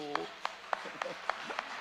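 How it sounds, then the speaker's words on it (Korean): A few faint claps ring out at an even pace in a church service, about six quick hand strikes, sparse and distant, with a voice murmuring among them. "박수요"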